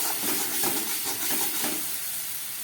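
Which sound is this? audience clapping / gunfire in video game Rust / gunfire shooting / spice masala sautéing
spice masala sautéing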